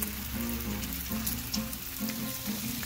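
Sausages laid on a Blackstone griddle sizzle loudly and continuously, a dense close frying hiss with small crackles and a faint low hum underneath.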